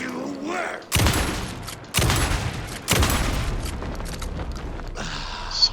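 A full magazine of gunfire in Alan Wake 2, three heavy booming bursts a second apart with echoing tails, loud and close, with a voice speaking near the start.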